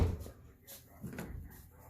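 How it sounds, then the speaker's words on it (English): A 2004 Honda Accord car door shuts with a dull, close thump, followed by a few softer knocks and clunks in an otherwise quiet space. "if we shut this door"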